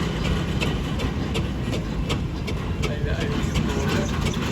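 A steam roller rumbles past in a steam rally parade, a continuous chugging and clanking roar with rhythmic knocks over dense crowd noise.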